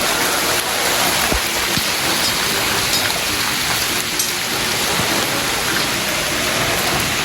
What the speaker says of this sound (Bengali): টানা 1 ঘন্টা ধরে বৃষ্টি হচ্ছে, আর বৃষ্টিটা কত জোরে হচ্ছে দেখো।